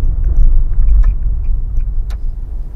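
An automatic car drives along with its engine rumbling low and steady, revving around 2000 rpm as the transmission shifts, loud and close inside the cabin, with no talking.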